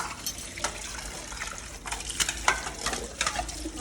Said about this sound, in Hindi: बर्तन धो रही हूँ।